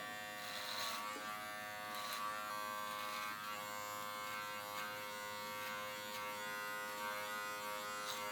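Brio electric beard trimmer cutting dry beard hair, a steady close-up motor buzz with a few brief crisp snips of hair over it.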